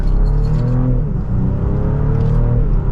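A 2024 BMW X5 xDrive50e plug-in hybrid pulls hard in sport mode, its engine note a steady, loud drone with rising harmonics that sweep upward, dip around the one-second mark, then climb again, with no talk over it.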